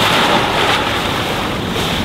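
Indian Ocean waves break on the coast below a clifftop infinity pool villa at a Sri Lankan hotel, heard as a loud, steady roar of surf mixed with wind buffeting the microphone.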